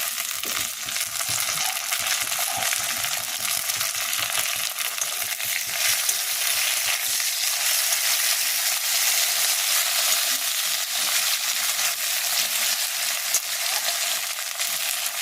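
Garlic, ginger paste and chopped tomato frying in a pan, a dense continuous hiss and crackle held at a steady level throughout, close up with no voices.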